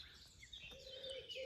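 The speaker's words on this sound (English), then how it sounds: "Birds are chirping." Faint bird chirps and tweets in the distance over a soft outdoor background, with a few brief calls standing out.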